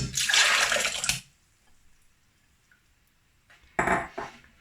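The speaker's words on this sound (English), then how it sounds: "I'm gonna pour the oats together with all the water into my blender" Soaked oats and water rush into a blender for about a second, then quiet, followed by a second shorter splash of pouring near the end.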